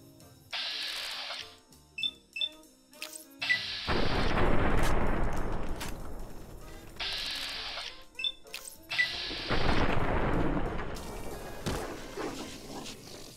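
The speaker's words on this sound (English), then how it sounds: "I'm gonna switch to my shotgun." Shotgun blasts in Fallout New Vegas, a few heavy booming shots with long rumbling decays, interleaved with short sharp reload and action clicks, loud and close.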